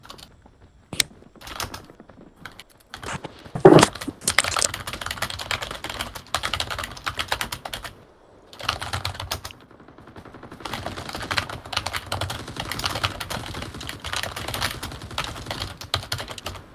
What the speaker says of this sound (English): you're furiously typing